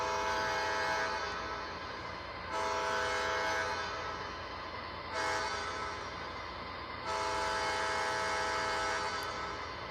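An MTH Christmas model train's grade crossing sound effect plays: a steady, loud electronic horn tone with a rumbling undertone, sounding in repeated long blasts with brief dips between them.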